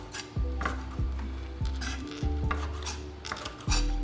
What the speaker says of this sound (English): I'm just gonna chop a little